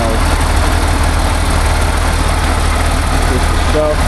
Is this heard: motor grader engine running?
yes